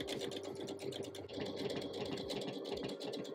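A sewing machine runs steadily, stitching the front of a fabric pocket to its back for a men's vest, with a continuous close mechanical whir and rapid needle rhythm throughout.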